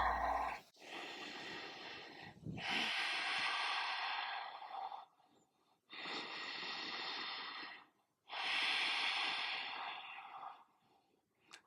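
Slow, deep breaths during a gentle yoga forward fold, with long airy inhales and exhales in steady cycles separated by short pauses, close and fairly loud with no talking.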